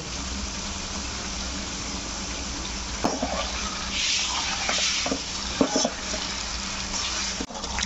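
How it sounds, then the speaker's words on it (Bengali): Chopped onions with salt fry in a pan, giving a steady close sizzle throughout with a few brief clinks and stirring knocks midway. "পেঁয়াজ দিয়ে আমি 5 মিনিট কষালাম"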